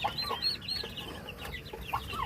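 A Rhode Island Red chicken clucks in short, repeated calls close by, mixed with high chirps from other birds on a farm.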